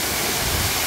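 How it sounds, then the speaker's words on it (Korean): Just under a second of the 20 m Suok waterfall in Goesan plunging over rock, an unbroken loud roar of falling water heard alone. "이 수호폭포인데요"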